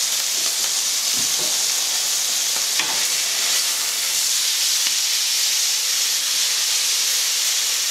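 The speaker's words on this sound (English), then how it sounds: "then put back in again to finally brown them off" Chips deep frying in hot oil for the second time to brown them give a loud, steady sizzling hiss with faint occasional stirring clinks, and no talk.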